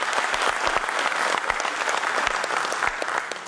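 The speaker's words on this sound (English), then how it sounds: "please give them a huge round of applause" Applause for the organizers of a hosting industry conference evening event, a dense, steady clatter of many hands clapping from a large audience, sustained and even throughout.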